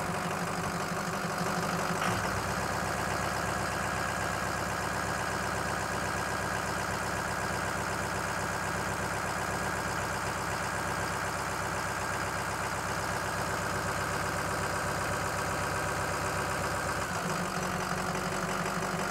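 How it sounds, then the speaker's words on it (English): A Powerstroke 6.0L diesel engine idles during a key-on engine-running injector test, a loud, steady, close rumble whose tone shifts slightly near the start and again near the end. "And let's do an engine running,"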